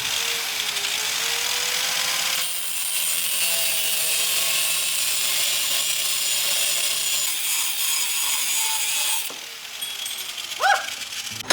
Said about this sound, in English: we need to cut the keyway and then put a drum lock brake in and cut some brackets